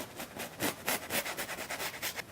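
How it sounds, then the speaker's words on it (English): Stiff bristle brush working a very little paint on canvas, soft dry rubbing in quick regular strokes, close and quiet. "I'm going to take my brush and soften."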